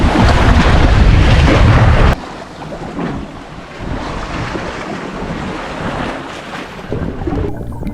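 Strong wind buffets the microphone over choppy, slapping sea water from a small boat, loud and steady throughout, easing slightly after the opening seconds.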